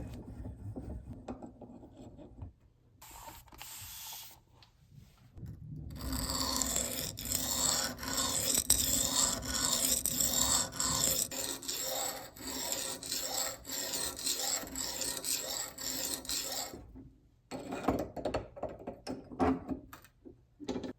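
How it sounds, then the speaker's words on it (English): Knives of soft steel forged from an old horseshoe being sharpened on antique Arkansas whetstones, a steady rasping scrape of steel on stone repeating in long strokes, close and fairly loud, with brief pauses at the start and near the end. "I'm gonna be using some of my great grandfather's old Arkansas whetstones"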